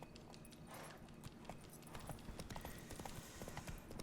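Horse hooves clip-clop at a steady trot in The Witcher 3, close and fairly quiet, with a rhythmic run of hoof strikes and no speech.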